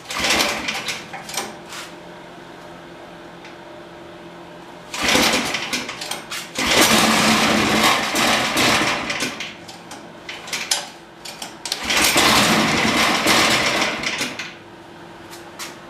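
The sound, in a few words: abandoned go-kart small engine starting and idling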